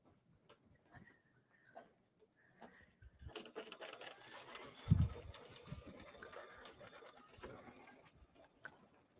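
A computerized embroidery machine stitches a tooth fairy pillow, its fast, steady mechanical ticking and whirring running throughout at moderate, close range, with a brief louder thump partway and no talking.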